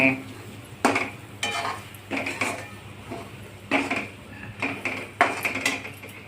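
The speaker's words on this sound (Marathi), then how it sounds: "तेल सुटेपर्यंत परतून घेणे." Paneer bhurji masala sautéing in a pan, with repeated bursts of spatula scraping and stirring clatter over a soft, steady sizzle, close and fairly loud.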